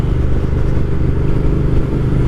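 Steady, loud engine drone of a 2020 Triumph Speed Twin motorcycle being ridden, heard up close as a continuous even hum with no voices.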